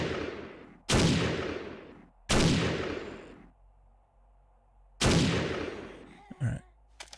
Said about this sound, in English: I'm not going to be able to get to Nurse Nancy's head, so she gets a gut shot